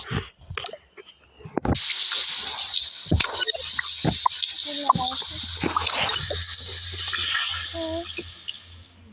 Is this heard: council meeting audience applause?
no